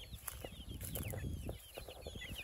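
Chickens on a poultry farm cluck and chirp steadily, with high peeping calls layered over a busy, close flock murmur.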